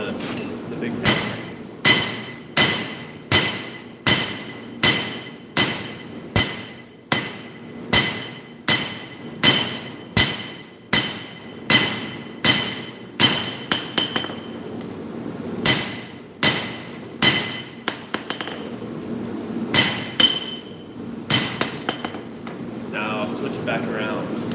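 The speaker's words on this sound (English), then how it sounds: "I'm going to smooth them out with the big hammer" A big hammer smooths a forged nakiri knife plate with loud, evenly spaced metallic strikes, about two dozen blows in a steady rhythm that loosens slightly toward the end, close up over a constant background hum.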